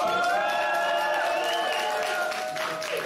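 Audience applause and cheering at a celebration, a steady dense roar of clapping with tonal sounds running over it, continuous and fairly loud throughout.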